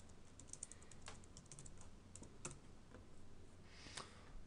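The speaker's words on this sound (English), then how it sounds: "we're going to type in Magic Lantern" Typing on a computer keyboard, a quiet run of light, irregular key clicks heard close up against a faint background hiss.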